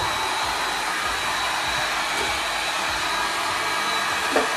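A heat gun blows hot air onto an upturned soy wax candle container, a steady, even broadband rush that holds at constant loudness throughout, close and alone with no voices.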